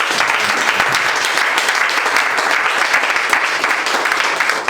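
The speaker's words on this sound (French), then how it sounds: "Je voudrais qu'on acclame encore." An audience at an office opening event applauds steadily and loudly, with dense continuous clapping throughout and no pause.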